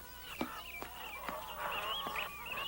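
A duck gives a short series of honking quacks, about five evenly spaced calls, fairly close and clear over a quiet background.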